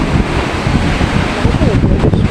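Strong typhoon wind from Typhoon Uwan roaring steadily, a dense, loud, continuous rush with heavy buffeting on the microphone throughout.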